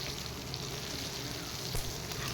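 Onion, garlic and dried chilli fry in oil with a dense, continuous crackling sizzle, close and steady with no pauses.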